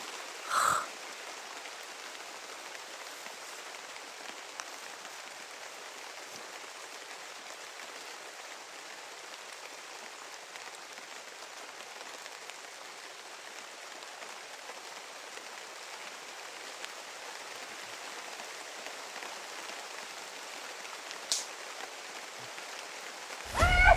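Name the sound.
rain in a video game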